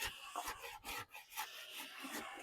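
A card scraper drawn across the wooden top of a desk under construction gives quiet, irregular rasping strokes, short scrapes in quick succession, close and alone.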